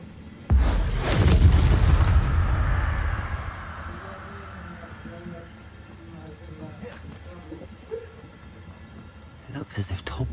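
An Incendio fire spell cast in Hogwarts Legacy inside a cave, a sudden loud fiery burst that roars for about two seconds and fades into a low rumble, followed by scattered faint clicks and light impacts.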